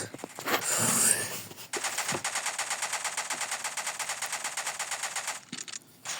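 Rapid automatic Kalashnikov rifle fire in a video game rattles in a sustained burst after a brief whoosh, steady and close, stopping abruptly near the end.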